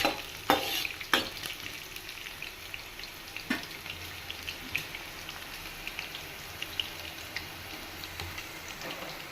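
Onions fry in oil in a pan with a constant crackling sizzle; sharp spoon clacks and scrapes come early, then the frying runs on alone without voices.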